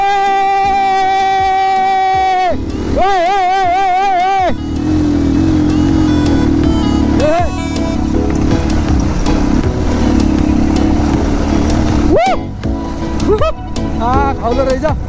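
Motorcycle engine running while riding, a steady loud drone that holds throughout with voices talking over it.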